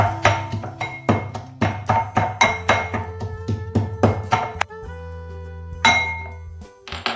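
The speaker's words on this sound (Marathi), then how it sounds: "आता घेऊया आपण लसण आणि कांदा त्याच्यात टाकायचे आपल्याला एक चम्मच जिरं आता ते आपल्याला बारीक करून घ्यायचं आहे" Garlic, onion and a spoonful of cumin pounded fine for a Maharashtrian shengule recipe, a steady run of sharp pestle-like knocks with metallic clinks, about two per second, close and clear, pausing briefly before a few final strikes.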